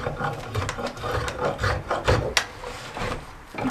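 A rasp works a wooden adze handle, rhythmic scraping strokes repeating about every half second, close and moderately loud, alone.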